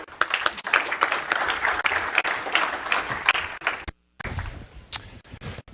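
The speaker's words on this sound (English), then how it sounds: "So let's all give a round of applause to Scott." An audience at a NewSpace 2016 conference session claps for several seconds, crisp individual claps close by. A brief silent gap follows, then a few scattered claps and room noise.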